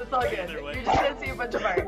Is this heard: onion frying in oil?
no